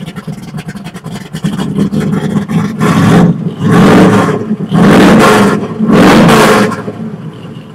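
A custom 1949 Ford F-1 hot rod pickup with a 351 engine idles with a lumpy, chopping rhythm, then roars through three loud, sharp revs close by, each swelling and dropping back.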